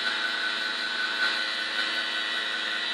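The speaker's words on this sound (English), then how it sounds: "linear actuators are just loud" A linear actuator motor runs on a motorized 300c, giving a constant loud high-pitched whine that stays even throughout.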